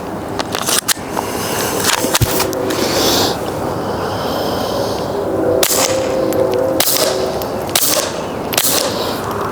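Five suppressed CCI subsonic .22 rounds fired through a HUXWRX Flow 22 TI titanium suppressor, sharp muted cracks spaced a second or two apart, each followed by a metallic action clack, amid outdoor background noise.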